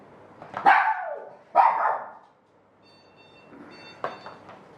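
A small dog yaps in sharp, high barks: two loud yaps close together, a pause, then another quieter yap, heard nearby with no talking.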